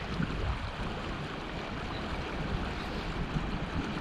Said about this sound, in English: And then there's obviously waterfalls down there.